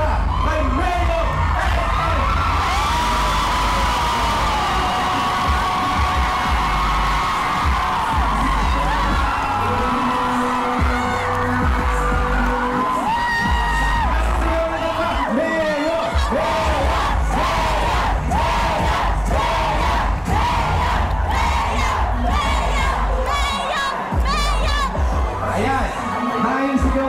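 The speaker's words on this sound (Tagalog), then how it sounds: "Malakas na palakpakan at sigawan para kay Mayor!" A large crowd cheers, whoops and applauds for the mayor at a 2025 election candidacy filing in Tanza, Cavite, a loud continuous roar with shouts breaking through throughout.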